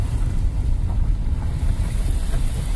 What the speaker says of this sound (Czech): líbí si ty vlny?